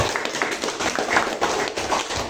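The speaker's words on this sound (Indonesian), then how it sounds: "tepuk tangan, Dok." Hands clapping in a classroom or training session, a steady broadband patter of several people applauding for the whole stretch, close and fairly loud with no talk over it.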